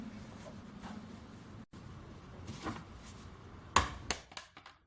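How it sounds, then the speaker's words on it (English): Cold chisel struck against a high-carbon steel inner bearing race held in a vise, giving a few sharp metallic impacts near the end after a stretch of low background noise. "I should be able to do that with a cold chisel and the vise, so we'll do that first."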